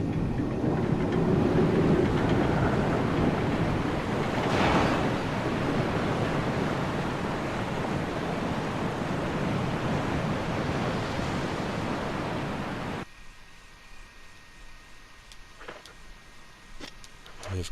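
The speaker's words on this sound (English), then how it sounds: "We have created a waterfall." In the Resident Evil Remake game, a drained pool pours into a waterfall as a loud, steady rush of water, which drops away abruptly to quieter ambience with a few faint knocks.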